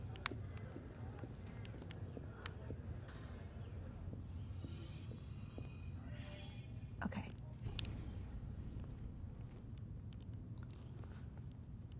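Horse hooves clip-clop steadily in Assassin's Creed Unity, a continuous rhythmic trot running under a dense game soundscape with low background rumble and occasional voices.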